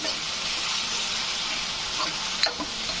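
Onion and tomato for pav bhaji sauté in a pan with a continuous close sizzle and a light stirring scrape partway through.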